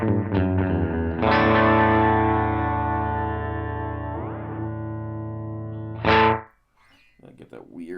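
A sustained distorted guitar tone through a Dolamo digital delay pedal rings out with heavy effects processing, swelling and decaying, followed by a short burst and a fading tail.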